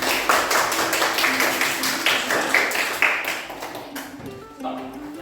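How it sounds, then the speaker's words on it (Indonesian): A classroom of students clapping together for their classmates' presentation, a dense, steady patter of many hands lasting several seconds, with voices talking over it and the clapping thinning out near the end. "Kita kasih tepuk tangan dulu."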